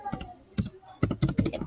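Bursts of computer-keyboard keystrokes in quick, uneven clusters, close and moderately loud, with pauses between groups, typed while playing games at school; faint voices show up briefly alongside.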